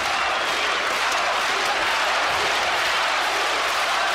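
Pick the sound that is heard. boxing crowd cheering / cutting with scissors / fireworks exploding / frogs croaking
boxing crowd cheering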